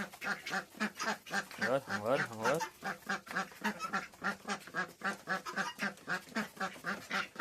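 Ducks quacking in rapid, overlapping bursts, fairly close and continuous, with a louder stretch of harsh calls partway through.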